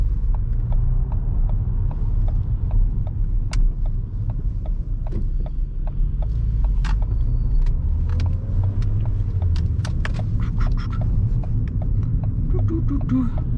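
Ford Fiesta driving and accelerating, heard from inside the car as a steady low engine rumble and drone, with a regular light ticking running throughout.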